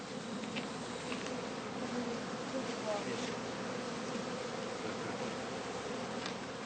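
Bees buzz continuously around a heather skep in an autumn apiary, a dense, steady hum with occasional individual insects passing close, under faint narration.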